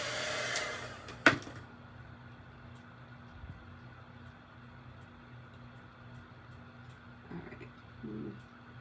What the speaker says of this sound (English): I'm just going to run the heat around the top there because there's glue strings everywhere.